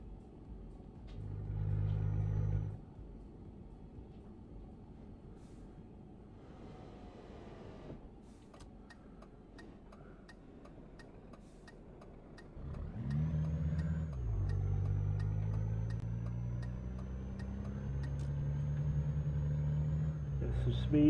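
Simulated DAF XF 105 truck engine in Euro Truck Simulator 2, pulling hard as it accelerates, with low rumbling bursts and a steady revving drone that grows louder toward the end, under occasional speech.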